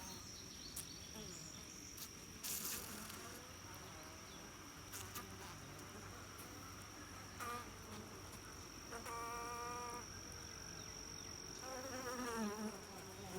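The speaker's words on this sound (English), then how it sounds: "Here are some of the bees on the inside of the hive." Honeybees buzzing steadily inside a Layens or Langstroth hive during a July inspection, a continuous close drone of many insects with a few louder wingbeats passing near, and no talking.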